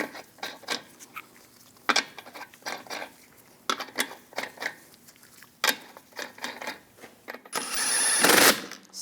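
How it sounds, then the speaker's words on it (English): Lug nuts being threaded onto a front wheel of a Chevrolet Colorado, a series of scattered metallic clicks and taps ending in a short burst of louder ratcheting or spinning. "Now we can put the wheel on. Put the lug nuts on."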